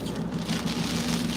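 Heavy rain pours outside, a loud, steady hiss of water with a low rumbling undertone that never lets up.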